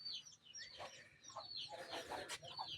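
Newly hatched native chicks and hens clucking and peeping close by in a small coop, with repeated short calls over a steady low background.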